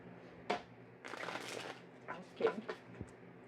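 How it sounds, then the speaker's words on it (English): Tarot cards being shuffled make quiet, close papery riffles and soft slaps in short bursts, with a longer rustling run in the middle and brief pauses between. "Okay, I heard shuffle again."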